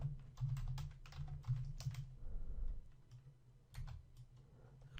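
Fast keystrokes clatter on a computer keyboard in uneven bursts of close, quiet taps, with a short pause in the middle before the typing resumes.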